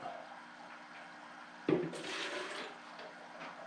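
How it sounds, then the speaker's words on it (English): Water from a natural aquarium tank sloshes and splashes as it is scooped out, a brief burst of liquid sound rising suddenly and trickling off, faint and close. "I'm going to take some of this water out"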